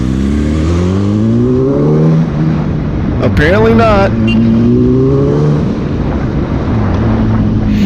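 A car pulls away from a red light, its engine rising through rising pitch sweeps as it accelerates and shifts, loud and close inside the cabin, with someone speaking briefly over it.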